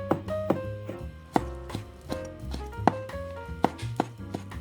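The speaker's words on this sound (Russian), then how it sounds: "Нарежем тоненько чернослив." A knife cuts prunes into thin slices on a board, a run of crisp, fairly close chopping taps at an uneven rhythm.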